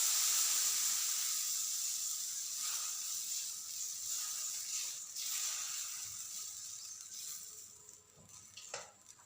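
Dosa batter poured onto a hot pan brings a bright, fading hiss and sizzle, moderately quiet, with a few soft scraping touches toward the end.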